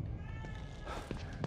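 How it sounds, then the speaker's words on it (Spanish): A cat in the horror video game The Evil Within 2 gives a soft, drawn-out meow within a murky game ambience, with faint footsteps or thuds later on. "¿Dónde está el gato? Ahí está."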